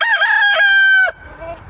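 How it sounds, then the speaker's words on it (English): A rooster crows once, loud and close, in one long drawn-out call, followed by faint chicken clucking and quiet ambient noise. "Chilling with the chickens."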